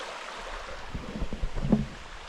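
A stream flows in the Great Smoky Mountains, a steady close rush and gurgle of water with a few louder splashing swells, no voices.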